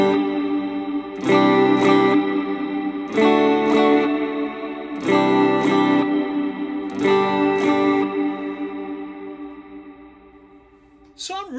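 An electric guitar plays through a Flamma FS02 reverb pedal on preset 7 with decay at 12 o'clock, four strummed chord phrases separated by short gaps, each ringing out with a lush reverb tail that fades.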